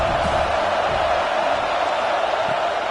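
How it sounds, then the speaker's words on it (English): A dense, steady roar from a college football stadium crowd at an SEC game between Ole Miss and USC, cheering loudly and continuously without a break for the whole stretch. "This crowd trying to show them what it's going to be like all day in this house."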